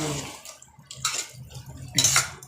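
Water pours into a pot for cooking mutton in a home kitchen, three bursts of splashing poured in quick succession, close and moderately loud with faint clinks of the vessel.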